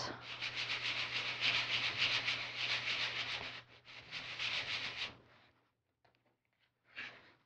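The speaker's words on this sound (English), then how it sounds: "we're going to just sand in a circular motion to get rid of any little" Sandpaper rubs in a circular motion over wooden rocket fins, giving a close, steady scratchy hiss in long strokes that pauses and then resumes briefly near the end.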